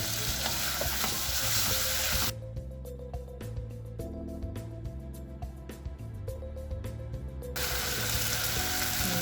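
Tomatoes sizzle and fry in a pan for sambal krecek, a steady crackling hiss with stirring scrapes that eases midway, with music playing throughout and no talk.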